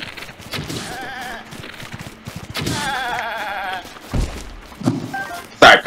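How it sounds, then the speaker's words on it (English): A goat in the video game The Legend of Zelda: Breath of the Wild lets out a couple of wavering, nasal bleats at moderate volume over steady game ambience, followed by a few dull thumps near the end. "There's a goat."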